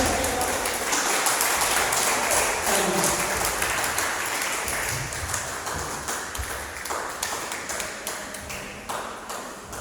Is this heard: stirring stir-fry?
no